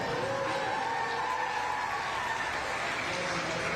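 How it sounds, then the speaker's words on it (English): Audience applause at an evening youth fair showmanship event, a soft, distant spread of clapping from the crowd, steady and fairly faint with some ambient outdoor noise underneath. "How many of you folks are enjoying watching this Old Timers Showmanship this evening? A round of applause."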